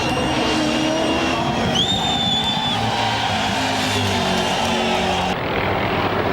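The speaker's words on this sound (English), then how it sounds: "Larry Perkins, he is bringing it home. The Castrol Commodore under the Dunlop bridge." Castrol Holden Commodore race car driven by Larry Perkins on Dunlop tyres, on the last lap passing under the Dunlop bridge: a loud, continuous engine roar with a brief rising whine, heard from trackside amid broadband crowd and circuit noise.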